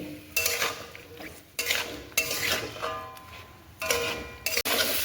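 Vegetables with ginger paste, ground spices and chopped tomato are stirred in a pan, a metal spoon scraping and clattering against the cookware in uneven bursts with brief pauses and a steady sizzling hiss between strokes.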